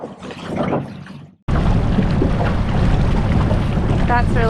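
Wind buffets the microphone and a small outboard dinghy hums across open water near Black Point in the Exumas, loud and continuous after a brief quieter moment of talk at the start.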